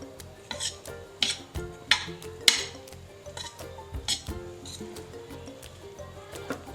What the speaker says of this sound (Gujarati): હવે આપણે બધા જ ઇન્ગ્રીડિયન્ટ્સને સરસ રીતે મિક્સ કરી દઈશું